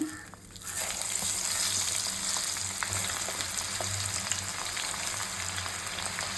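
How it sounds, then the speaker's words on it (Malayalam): Onions hit hot coconut oil in an iron pan with a sudden loud sizzle that settles into steady, dense crackling frying, continuous throughout with no voices. "ഇനി ഞാൻ ഉള്ളി ഇടുകയാണ്."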